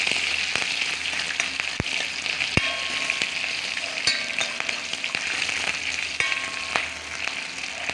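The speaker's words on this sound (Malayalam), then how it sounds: "നമ്മൾ അരിഞ്ഞു വച്ചിരിക്കുന്ന പച്ചമുളക് ഇതിലേക്ക് ചേർത്ത് കൊടുക്കാം. പച്ചമുളകൊന്ന് മൂക്കട്ടെ." Chopped green chillies fry in hot oil for Kerala-style ginger thiyal, giving a steady, close sizzle with occasional pops and scraping stirs, with no voices.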